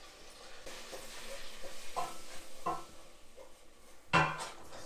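Spoon scraping and stirring flour into melted butter in a pan, with soft sizzling underneath and a few louder knocks against the pan, close and unhurried, no voices.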